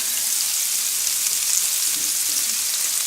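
Chopped onions sizzle and fry in a pan, a steady, close, hissing crackle that runs unbroken and alone, with no voices.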